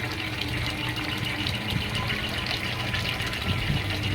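Water drains down through a homemade pop bottle planter, a steady trickling and gurgling flow that stays close and even for the few seconds, with no speech.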